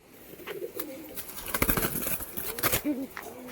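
Cooing and soft bird calls from a male Murshidabadi Giribaz pigeon, mixed with fluttering and rustling movement, fairly close, with a brief faint voice.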